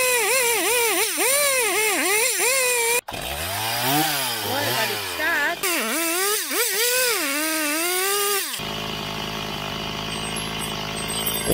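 A Land Rover Discovery 3 / LR4 engine runs continuously, its pitch rising and falling in repeated revving surges, loud and close, then settling into a steadier rough idle.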